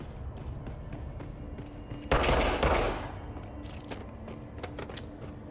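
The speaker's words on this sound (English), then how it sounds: "Luckily, shooting your gun produces light." A burst of rapid automatic gunfire rattles out in a video game, loud and dense for about a second before fading. Quiet mechanical clicks and ambient game noise surround it.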